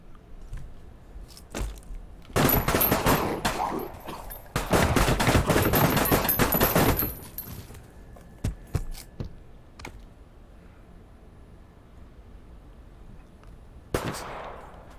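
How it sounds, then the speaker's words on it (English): A shotgun fires in a VR shooter video game: a few sharp single shots, then two loud sustained bursts of blasts, followed by scattered quieter shots and clicks, with no talking. "It is super fucking awkward to reload this shotgun"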